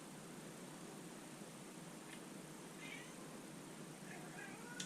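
Cats meowing in a home kitchen, a few faint, distant mews over a steady hiss of background noise.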